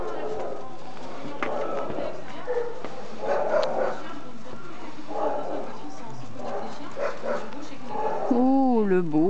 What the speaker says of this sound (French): Oh, le beau chien.